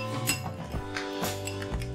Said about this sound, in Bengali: এবার এটা চামচ দিয়ে খুব ভালোভাবে এটা মিক্স করে দিচ্ছি